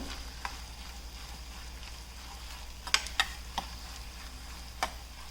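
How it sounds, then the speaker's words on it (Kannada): Egg with pepper powder and salt fries softly in a lidded pan, a quiet, even sizzle broken by a few light ticks and taps. "ಇದನ್ನು ಒಂದು ಎರಡು ನಿಮಿಷ ಲಿಡ್ನ ಕ್ಲೋಸ್ ಮಾಡ್ಕೊಂಡು ಫ್ರೈ ಮಾಡ್ಕೊಂಡಿದ್ದೀನಿ"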